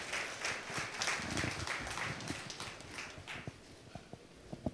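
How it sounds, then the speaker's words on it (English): Applause from an audience at a wellness conclave in Chennai, moderately loud and dense at first, then thinning into scattered individual claps that fade out. "A big round of applause, ladies and gentlemen."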